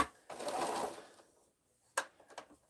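A quilting sewing machine stitching fabric, a short close run of needle mechanism whirring, then quiet and a few brief clicks and taps as the fabric is guided.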